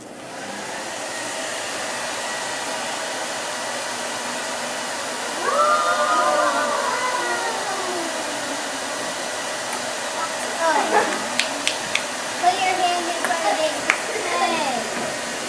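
A hair dryer blows with a steady, close whooshing drone throughout, while a voice chatters over it with rising and falling tones.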